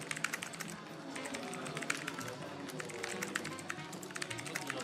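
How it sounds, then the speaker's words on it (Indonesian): Rapid, continuous clatter of computer keyboard keys during a competitive typing race, dense and steady at close range with faint background voices. "Jangan ngetik lirik dong mas."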